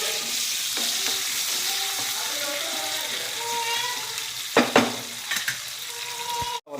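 Food sautés in a pan with salt for an instant chicken gravy, a constant sizzle with occasional stirring clatter and a few louder knocks near the end. Faint background voices can be heard.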